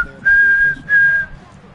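Referee whistle in the basketball video game NBA 2K24, two sharp blasts in quick succession, the second slightly shorter, loud and clear over a low game crowd murmur.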